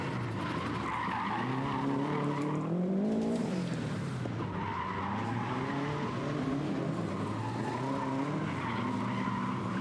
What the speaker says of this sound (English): Love the sound of those flat 4 engines. Absolutely growling those things at every opportunity.